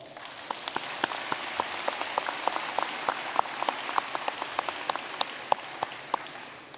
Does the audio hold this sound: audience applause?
yes